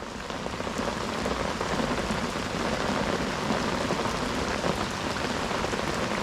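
Heavy rain pours down on a canal bank during a fishing session in a storm, a dense, loud, unbroken hiss of drops drumming close on nearby surfaces with no voices.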